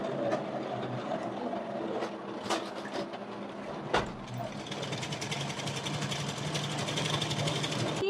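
A sewing machine stitches a salwar belt, laying a seam across fabric plates with a half-inch gap. The whirring runs steadily through the whole stretch, with a few sharp clicks near the start.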